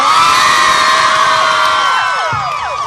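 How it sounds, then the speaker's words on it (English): A crowd at a mall tour stop cheers and applauds for an author, a loud dense roar of shouts, whoops and clapping that fades slightly toward the end. "Give her another round of applause."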